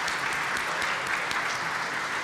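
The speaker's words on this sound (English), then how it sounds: "I'd like to give them a round of applause as well" A community meeting audience on a riverfront gives a round of applause, dense clapping that carries steadily for a couple of seconds without a break.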